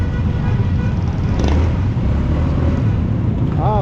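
Steady road traffic idles and rolls at a stoplight near the Paliparan 3 public market, a dense continuous rumble of cars and motorcycles with a brief horn-like tone near the end.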